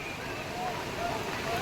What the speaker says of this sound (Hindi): यह है माँ गंगा की उफान भरी लहरें।